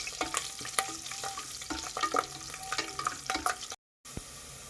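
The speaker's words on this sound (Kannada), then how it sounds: "ಈಗ ಇದಕ್ಕೆ ನಾನು ಬೆಳ್ಳುಳ್ಳಿನ ಹಾಕ್ಕೊಂಡಿದ್ದೀನಿ. ಬೆಳ್ಳುಳ್ಳಿ ಸ್ವಲ್ಪ ನಮಗೆ ಗೋಲ್ಡನ್ ಕಲರ್ ಬಂದರೆ ಸಾಕು." Garlic frying in a pan for a quick breakfast dish, a steady close sizzle broken by frequent scraping and clinking as it is stirred, with a brief drop to silence near the end and no talking.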